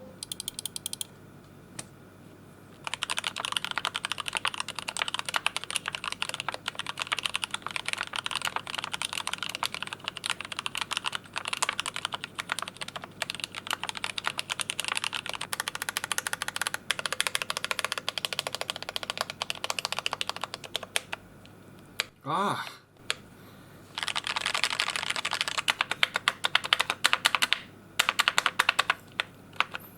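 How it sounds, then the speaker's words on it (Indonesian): Fast, continuous typing on a custom Glorious GMMK Pro mechanical keyboard with Gateron Yellow switches, a dense run of close clacks broken by a short pause and a brief exclamation before typing resumes. "gue bakal coba pasang dengan keycap itu dan juga Gateron Yellow biar kita bisa lihat suaranya itu"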